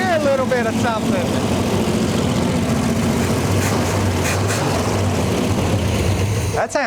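Engine of a rebuilt, previously abandoned race car idling a little high while fully choked, a continuous low throbbing rumble with people talking over it, cutting off abruptly at the end.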